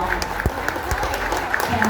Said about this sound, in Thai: ขอเสียงปรบมือให้กับช้างและก็นักแสดงทุกท่านด้วยครับ